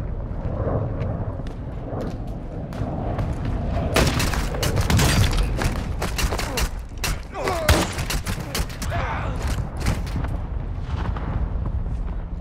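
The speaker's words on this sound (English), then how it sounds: "Our mortar strike is inbound." Mortar strike explosions pound a video game battlefield, a loud string of deep booms and sharp cracking blasts mixed with bursts of gunfire, dense and close for several seconds.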